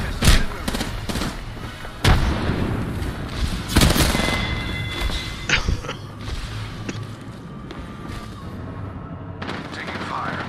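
Incoming gunfire in a video game arrives as scattered loud cracks and bursts over a constant rumbling bed, with metallic clanks between the shots and a voice now and then.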